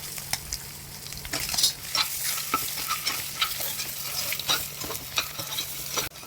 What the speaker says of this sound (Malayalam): എണ്ണ മൂത്തതിനകത്ത് നമുക്ക് പൊളിച്ച് വെച്ചിരിക്കുന്ന മുട്ട അരിഞ്ഞ് അതിനകത്തിട്ട് ഒന്ന് ഫ്രൈ ചെയ്തെടുക്കാം.